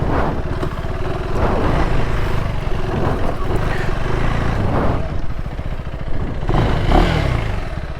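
A 2025 KTM Adventure 390 motorcycle engine runs close by with uneven revving and a rough, misfiring idle, rising in brief bursts against mechanical clatter.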